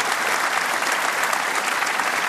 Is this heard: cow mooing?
no